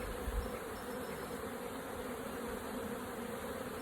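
Honey bees buzz around an open beehive in a steady, close, continuous hum that holds at an even level throughout, with no talking.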